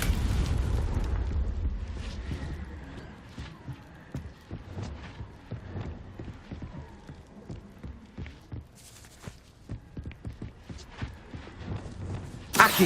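Confringo explosion spell cast in Hogwarts Legacy, a roaring blast at the start fading out, followed by scattered thumps and clip-clopping footsteps in the game.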